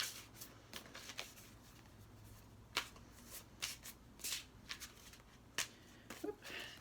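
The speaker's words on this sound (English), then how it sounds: "Just shuffling the cards" Tarot cards shuffled by hand in a series of quick riffles and soft slaps, close up and fairly quiet, with short pauses between bursts.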